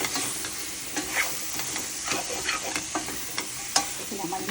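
Eggplant pieces being stirred in a pan with masala, spoon scrapes and light sizzling frying, close and steady with no talk.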